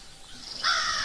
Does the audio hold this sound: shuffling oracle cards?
no